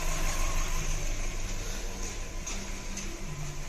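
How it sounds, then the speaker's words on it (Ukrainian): A 2008 Skoda Octavia 1.6 MPI engine idles close by with a steady low rumble and an uneven, lumpy rhythm from a misfiring cylinder. "двигун у нас троїть, нестійко працює"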